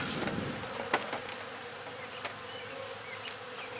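Bees being installed in a hive buzz close by in a continuous droning hum, with a few sharper ticks and knocks cutting through.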